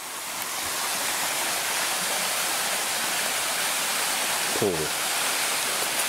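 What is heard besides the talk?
waterfall on a mountain hiking trail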